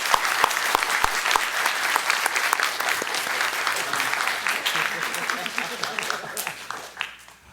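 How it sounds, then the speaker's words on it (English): A conference audience applauds the panelists at a game development session, dense clapping from many hands with scattered sharper claps nearby, steady throughout and tapering off at the very end. "please join me in giving a round of applause to our panelists"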